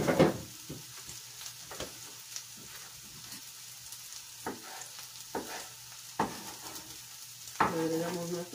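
Tomato slices and mushrooms sautéing in a pan, a steady close sizzle broken by several sharp clacks and scrapes of a utensil stirring against the pan.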